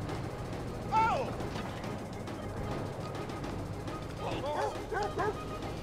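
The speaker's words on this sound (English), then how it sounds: "did that dog just bark at him?" A dog in the video game Watch Dogs 2 gives a couple of short yelping barks, one near the start and a quicker cluster later, heard over steady game background noise.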